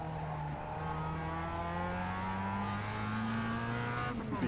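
Mazda Cup race car in the iRacing video game, its small engine holding a steady, droning note at close range that climbs slightly in pitch before shifting near the end, with no talking.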